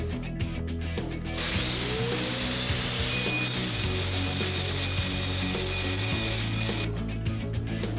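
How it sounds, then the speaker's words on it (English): An angle grinder works over a bowing concrete basement wall during surface preparation, giving a loud, steady whine and rasp that runs without a break through most of the clip. "Our first step is to grind the wall to surface prep."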